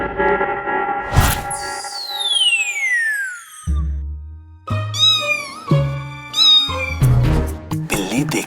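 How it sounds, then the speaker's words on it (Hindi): A cat meows several times in a row, loud and close, with sliding whiny calls and clear gaps between them, following a long falling cartoon-like sweep at the start. "लगता है वो नकचड़ी बिल्ली आज फिर आ गई है।"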